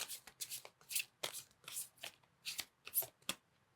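Tarot cards shuffled by hand in a quiet room, a steady run of soft riffling bursts and flicks, about a dozen in quick succession, close and fairly faint with no talking.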